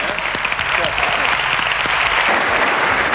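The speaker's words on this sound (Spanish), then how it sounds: "Un aplauso para él" Studio audience applauding the guest Pepe Carroll in a loud, continuous burst of clapping, with a voice faintly audible underneath.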